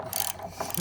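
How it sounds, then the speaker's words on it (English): A ratchet tightening a loose water heater fitting in a garage, giving a short burst of quick metallic clicks close up. "Just give it a ratchet."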